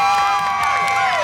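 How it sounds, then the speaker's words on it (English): Year 4 school children clapping and cheering during a live drawing event, a brief loud burst of mixed claps and high young voices shouting and whooping. "give yourselves a huge, huge clap for being so wonderful"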